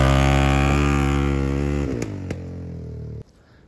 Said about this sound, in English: I'm gonna do a launch right now with lots of air in the back tires.